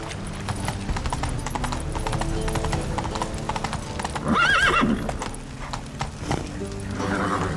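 A horse gallops in The Witcher 3 game, steady clip-clop hoofbeats running throughout, with a loud neigh rising briefly midway over the rolling background.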